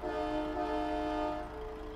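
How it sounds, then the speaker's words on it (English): Air horn of a DAF XF 95 truck in Euro Truck Simulator 2 sounds a steady, sustained multi-tone blast over engine rumble, fairly quiet, then trails off. "and then there's your air horn."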